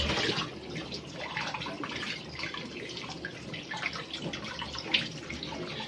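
Tap water runs steadily into a sink while salted fish (fesikh) is rinsed by hand, a continuous splashing wash with small irregular splatters and no speech.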